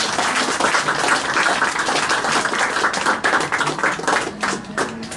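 Warm audience applause for the president of the Ecumenical Jury at a Cannes festival stand presentation, dense steady clapping from a nearby crowd holding throughout at an even level.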